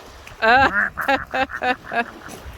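A duck on a Lake Erie beach quacks loudly and close by, a run of about six nasal, raspy calls in quick uneven succession, each one standing out alone against quiet background noise.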